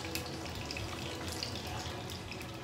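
Water runs and splashes into a sink as salty soaking water is poured off eggplant, a steady close trickle with faint drips throughout.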